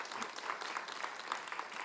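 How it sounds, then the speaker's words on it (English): Faint, distant audience applause at a Calgary Ward 7 municipal candidates' debate in Montgomery, a soft continuous patter of many hands without speech. "A round of applause."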